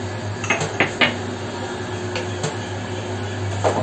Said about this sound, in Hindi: इसमें मिक्स करेंगे मलाई।